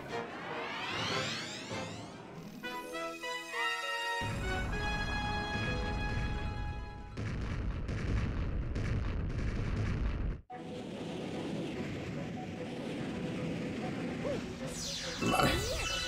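Cannon blasts and booming explosions from Super Mario Galaxy, sounding as a dense, loud barrage over game music, with a sudden cut partway through and a brief sharp burst near the end.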